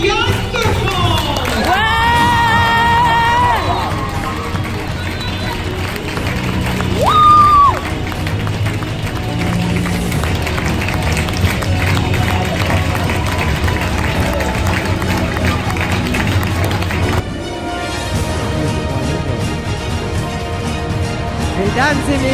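Crowd noise at a French championship medal ceremony, with cheering and clapping blended into a loud, continuous wash, announcer-style voices and music-like tones running through it.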